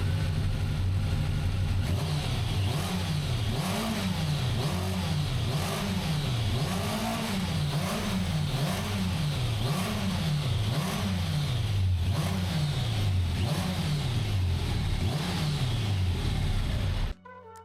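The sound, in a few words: Kawasaki ZZR1100 motorcycle engine running badly, revving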